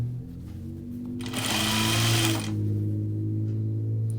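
A sewing machine stitches a half-inch seam on a tunic in one short, loud, close burst lasting about a second, set against a low steady motor hum before and after.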